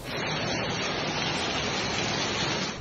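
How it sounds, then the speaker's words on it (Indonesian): Water from a severe roof leak pours inside a house like rain, a dense, steady hiss of splashing and trickling that stays even and fairly loud throughout, with no voices. "terjadi bocornya sekian parahnya ya, sedemikian parahnya sehingga seperti hujan di dalam ruangan, di dalam rumah"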